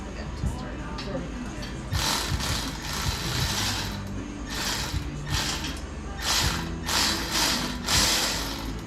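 A ratchet clicks in repeated bursts while turning a bolt on a 1968 Chevy C-10 pickup during an engine swap, with short pauses between strokes and people talking nearby.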